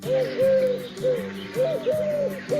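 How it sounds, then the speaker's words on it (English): A pigeon coos in a run of soft, hollow, repeated calls, close and clear with no talking over it. "a pigeon is flying over the house."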